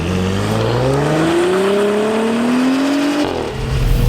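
A turbocharged Mercedes-AMG GLC43 SUV with all-wheel drive and a 9-speed automatic accelerates hard. Its engine note climbs steadily, then drops at a gear change near the end, loud and close.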